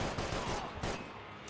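Rapid gunfire bursts from the Max Payne 3 video game, loud and close, with several sharp volleys in quick succession and a dense, continuous crackle of shots.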